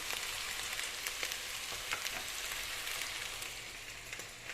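Eggplant and peppers sizzle and crackle steadily in a hot pan, a dense frying hiss with small pops throughout, no talking.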